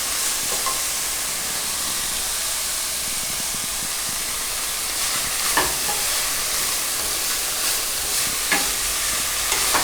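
Steady wet stirring of chopped broccoli through pakoda batter, a continuous close hiss and squelch with faint scraping, no voices.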